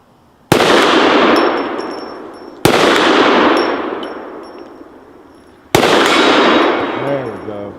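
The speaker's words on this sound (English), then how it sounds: "let's just go back over there and take a couple shots at the ram again" A Desert Eagle firing 300-grain bullets booms three times at an outdoor range, each loud shot followed by a long decaying echo and a faint metallic ring from the steel ram and gong targets, with a voice briefly heard.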